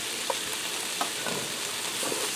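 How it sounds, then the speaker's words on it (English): Sliced mushrooms sauté with onions and garlic in burger grease, giving a steady broadband sizzle with a few soft scraping stirs, close and moderately loud with no talking. "I'm going to allow them to saute in there for a minute till they start to soften up just a hair"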